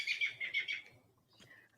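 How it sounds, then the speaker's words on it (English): Birds outdoors chirp in a quick run of bright repeated tweets, then one brief call follows after a pause, moderately close, with no talk. "Sorry about the birds."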